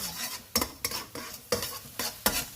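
Scrambled eggs stir-fried in a pan for pork belly egg fried rice: rhythmic spatula scrapes and clanks about every half second over a bright, continuous sizzle, close and fairly loud, with no talking.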